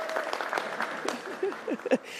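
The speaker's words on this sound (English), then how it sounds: "you can applaud Murad" Faint, scattered clapping from a crowd at a New York City press announcement, light and uneven, with a voice talking over it in brief bursts.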